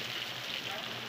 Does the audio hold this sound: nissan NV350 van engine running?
no